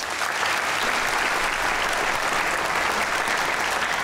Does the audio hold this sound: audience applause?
yes